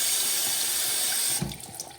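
Water drains out of a plastic Ducky Splash toy, a steady rushing trickle for over a second before it thins into sputtering gurgles and drips near the end.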